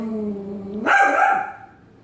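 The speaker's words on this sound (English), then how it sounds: "Okay, so Roman was barking" A dog lets out a single sharp bark that follows a low, drawn-out whine, close and fairly loud, then fades.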